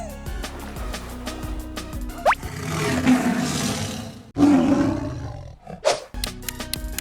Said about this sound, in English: It is a tiger.